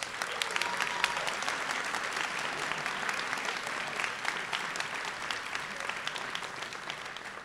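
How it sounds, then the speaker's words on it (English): An audience at a senior class night gives a sustained round of applause, a dense, even rush of many hands clapping at a steady moderate level throughout. "Could we give them all a round of applause?"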